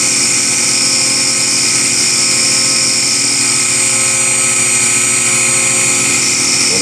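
A CNC end mill profiles a Hemi valve cover, a loud, sustained high whine with slight chattering. It runs continuously and close up, with no voices.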